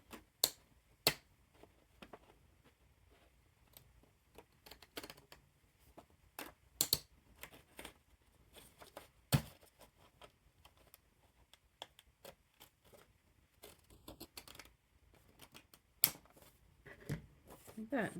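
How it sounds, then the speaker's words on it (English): Small decorative scissors snip a scalloped edge into paper, making scattered crisp clicks and short cuts that come in irregular bursts with quiet gaps between them. "They're not the greatest little scissors in the world, but they are fun."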